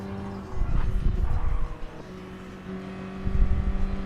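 A 1989 BMW M3 racing in Gran Turismo Sport, its engine droning and revving steadily with a steady tonal whine, swelling and easing as the car accelerates and shifts.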